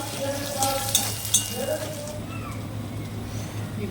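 Gentle sizzling of garlic frying in oil, with a couple of light utensil clinks and a voice speaking briefly over it.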